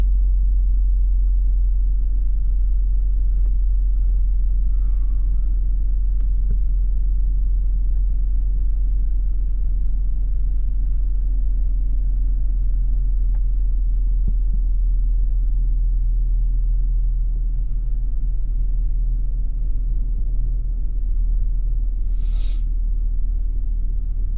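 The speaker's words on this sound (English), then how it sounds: "Guess we'll start the car." A Hummer H3's engine idles with a loud, steady low rumble that stays even and unbroken throughout, with only faint clicks over it and no talking.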